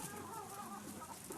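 Chickens clucking among other livestock at a farm with pigs, rabbits, geese and catfish ponds, a dense continuous flock chatter filling the whole moment at moderate loudness.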